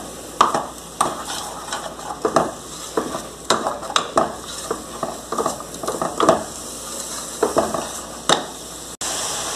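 Meat pieces added to softened tomato in a pan, stirred repeatedly with a utensil scraping and clinking against the metal over a steady close sizzle, the rhythmic strokes coming every second or so.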